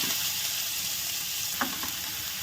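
Oil sizzling in a pan where garlic has been fried to a golden brown, with chopped onion just added; a steady hiss runs throughout, broken by one brief louder splutter or stir near the end.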